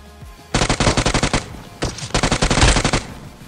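UMP submachine gun fire in PUBG Mobile, two loud close bursts of rapid automatic shots, the first about a second long and the second slightly longer after a short pause, with no talk over them.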